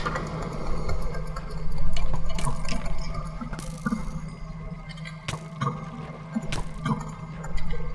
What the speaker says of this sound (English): I've fallen back in the water, that's not good.